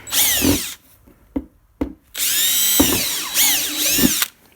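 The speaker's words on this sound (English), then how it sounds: "Drill that out." A power drill bores drainage holes through wood for a homemade bird feeder, with several bursts of whining motor and chewing bit, separated by short pauses and brief restarts, close and loud.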